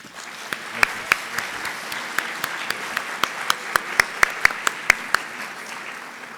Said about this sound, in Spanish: a quienes recibimos con un aplauso